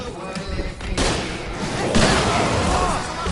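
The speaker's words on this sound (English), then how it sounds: "I can set off more of the fireworks from here and help you out!" Fireworks in Alan Wake Remastered go off as a quick run of loud, close pops and crackling bursts, two sharp onsets within a few seconds over dense noise.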